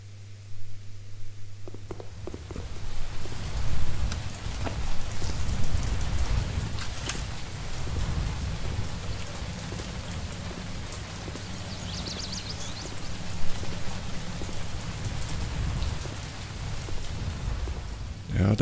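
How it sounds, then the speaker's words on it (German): Rain patters and hisses steadily outside the café in the Café Owner Simulator video game, a dense continuous wash with a low rumbling undertone lasting throughout. "Draußen prasselt der Regen."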